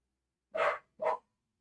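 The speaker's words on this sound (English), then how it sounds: "Max got a little bark going." A dog named Max gives two short, sharp barks in quick succession, close and clear against an otherwise silent background.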